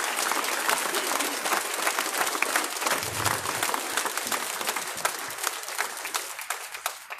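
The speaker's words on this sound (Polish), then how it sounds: "wielkie brawa dla KOD-u" Steady clapping from a crowd at an outdoor rally for free media in Gdańsk, held by KOD. Many sharp hand claps blend into a dense, even wash that keeps going for several seconds at moderate distance.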